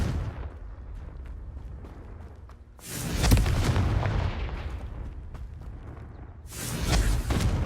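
Confringo fire spell blasts in the video game Hogwarts Legacy: two loud, booming explosions a few seconds apart, each a sharp burst trailing into a rumbling decay, with no talk.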